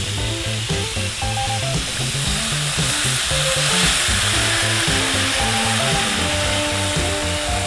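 Food is stir-fried in a hot wok or pan after oyster sauce is added. A loud, steady sizzle runs through the whole clip, with rhythmic scraping and clanking from the stirring underneath.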